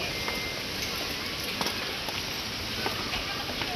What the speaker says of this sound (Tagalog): Ayan na naman ang ulan, oh.